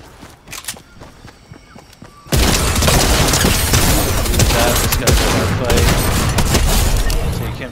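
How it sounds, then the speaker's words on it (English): Fortnite solo match firefight: a few sparse shots and footsteps, then a sudden dense burst of rapid weapon fire and booms that keeps going loud and nearly nonstop to the end. "Able to switch to the shotgun to finish him off."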